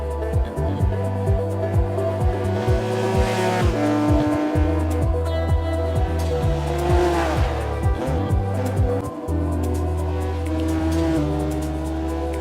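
A rear-engined Porsche 911 RGT rally car in Dirt Rally 2 revs up and down through repeated gear shifts, with tires squealing through corners, loud and continuous.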